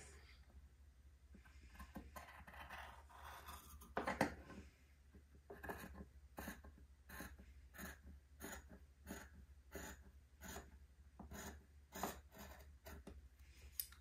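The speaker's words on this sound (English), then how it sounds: "Now I'll take my fabric cutting scissors and cut this line." Scissors snip through cloth in a steady series of crisp cuts, quiet and close, with faint breathing in between.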